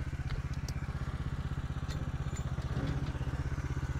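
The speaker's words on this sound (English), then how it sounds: "Hopefully this engine noise isn't too loud that I can't talk over it," Engine of a Norwood LM29 sawmill running at a steady idle, a loud, even, rapid chugging pulse that holds throughout with no talk over it.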